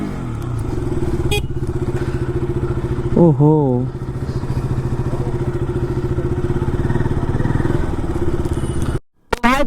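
A new motorcycle rides along, its engine droning steadily and loud throughout, with a short vocal exclamation partway through and a brief drop near the end.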